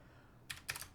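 A few quick, faint keystrokes clatter on a computer keyboard after a quiet moment, in two brief bursts close by, with no speech.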